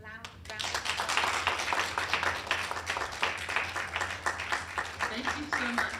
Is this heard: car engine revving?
no